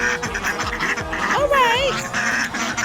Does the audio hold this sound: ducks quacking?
yes